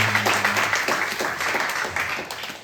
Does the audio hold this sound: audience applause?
yes